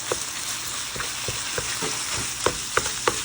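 Browned ground meat for a family three-bean recipe sizzles steadily in a greasy pan while a utensil chops and stirs it, its scraping knocks landing at irregular intervals over the constant close frying hiss.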